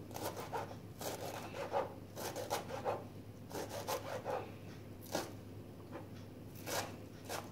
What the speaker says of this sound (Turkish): Şöyle dereotumu da ince minik minik doğruyorum.